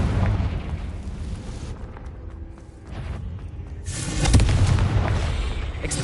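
Explosive blasts from the Confringo spell in Hogwarts Legacy: a loud, rumbling detonation fades into a quieter stretch before a second heavy boom bursts in and decays with a long, crackling tail.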